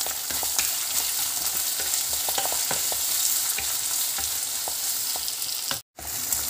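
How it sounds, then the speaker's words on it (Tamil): Onion, green chilli, ginger and garlic sautéing in a pan make a dense, continuous sizzle with scattered spatula taps and scrapes, close and loud, cut by a brief dropout near the end. "தக்காளி இல்லாமல் மற்றது எல்லாத்தையும் போட்டு வதக்கிக்கலாம். வெங்காயம், பச்சை மிளகாய், அப்புறமா இஞ்சி பூண்டு."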